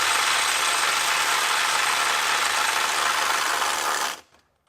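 Milwaukee M12 FUEL subcompact impact wrench running in reverse in power mode 3, a loud, continuous, rapid hammering buzz at close range for about four seconds before cutting off abruptly.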